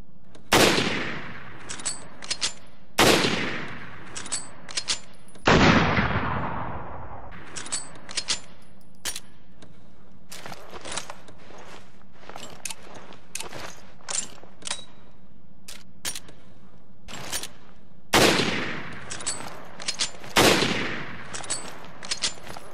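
Legendary rifle in Resident Evil: Revelations firing a series of loud, widely spaced single shots, some in quick pairs, each with a sharp crack and short decay, then several slower shots separated by gaps.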